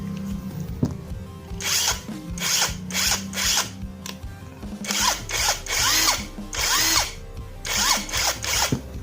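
A cordless brushless impact wrench, a Nagawa NCI350U rated 350 Nm, fires in repeated loud bursts, its motor whining up and down in pitch, with brief pauses between runs.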